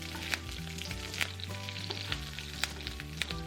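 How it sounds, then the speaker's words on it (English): Onions sizzling and frying in a hot pan, a steady crackling hiss punctuated by sharp pops, with a low musical hum beneath. "have you noticed the sounds of crackling mustard, spluttering curry leaves and sizzling onions?"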